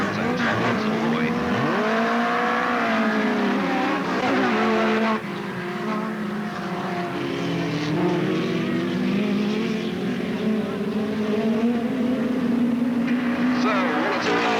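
Hot rod race cars roar away at the start of a race at Alwalton Raceway in 1983, with loud engines rising and overlapping under continuous commentary over a public address system.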